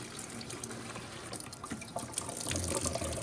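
Cold water from a kitchen tap runs steadily into a sink to fill it, a continuous broadband splashing hiss that grows slightly fuller and louder toward the end.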